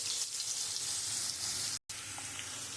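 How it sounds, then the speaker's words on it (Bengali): Cut potatoes frying in oil left from cooking fish, with black cumin seeds, giving an even, moderately faint sizzle that runs continuously apart from one very short dropout. "আমি আলুটা একটু ভেজে নেব"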